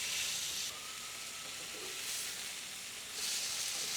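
A sous vide pork chop sizzles on a grill after being flipped; a faint, steady hiss rises and falls in soft waves, alone and fairly quiet.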